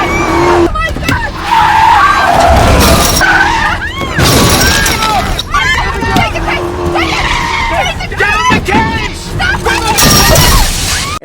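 Cars skid and crash in the Iron Man 2 race scene, with loud squealing tires, engine roars and smashing impacts layered over a dense, chaotic soundtrack, with voices heard amid the noise.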